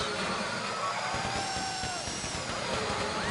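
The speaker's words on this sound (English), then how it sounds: "How you doing with that drill?" Power drill whirring steadily in GTA 5 Online, a continuous high-pitched grinding drone running throughout at moderate level with busy game background noise.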